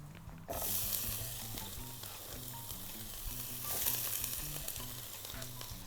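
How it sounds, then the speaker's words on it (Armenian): Chopped onion fries in a pan for a Mexican-style chicken quesadilla, giving a loud, continuous sizzle with brief bursts of stirring, close up and without speech. "Մի քանի րոպե մինչև սոխը տապակենք"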